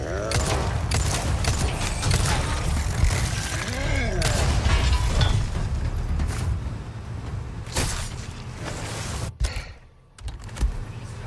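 Rapid bursts of gunfire and mechanical clicks from the Resident Evil 4 Remake game, loud and dense at first, then sparser shots and clatter, with a voice speaking at points.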